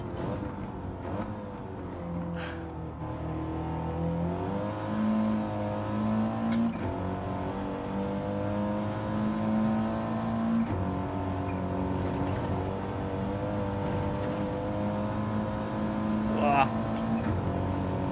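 A race car engine in Gran Turismo 7 drones continuously at high revs with shifting pitch as gears change, steady and loud for the whole stretch, with faint tyre noise underneath.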